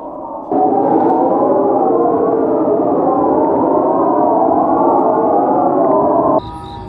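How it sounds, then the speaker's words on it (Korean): An air-raid-style siren blares from North Korean propaganda loudspeakers near the border village of Saengchang-ri in Cheorwon at night, holding one loud, steady, wavering wail for about six seconds before cutting off abruptly. "밤 9시 마을 전체에 공습 경보 같은 사이렌 소리가 울려 퍼집니다."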